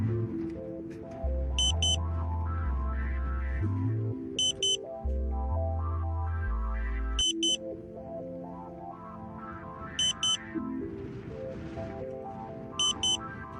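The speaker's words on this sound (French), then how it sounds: "attendre 7 tonalités de battement de cœur." Short high electronic beeps from a satellite modem, heard at intervals of about three seconds during installation of a Numflex satellite kit, layered over a low droning tone and synth-like background music.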